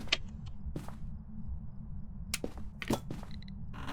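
In the game Phasmophobia, a ghost knocks against a glass, producing several sharp isolated taps and clicks over a low steady background hum, with no talk.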